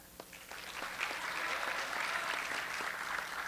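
An audience at a high school fall sports awards night applauds team members with steady, dense clapping that holds for several seconds.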